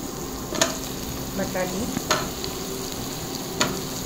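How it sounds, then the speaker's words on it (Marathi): Malvani masala for stuffed crab sautés in a pan with a steady close sizzle. A spoon scrapes and stirs through it in a few sharp strokes. "चांगलं परतून घ्यायचं."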